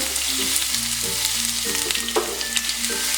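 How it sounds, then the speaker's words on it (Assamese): Onions frying in hot mustard oil for a sesame chicken curry, a steady close sizzle with soft crackles running throughout, no voices. "এটা গৰম হ'লে মই প্ৰথমতে ইয়াতে পিঁয়াজখিনি ভাজি ল'ম"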